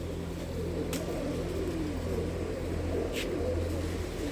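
Pigeons in a loft coo in a low, steady murmur running throughout, with a faint hum and a couple of brief sharp noises above it.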